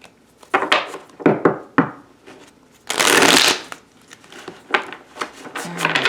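Tarot cards are shuffled close by: a series of quick riffling flicks and taps, then a longer dense riffle, followed by lighter shuffling and card handling, with no talking.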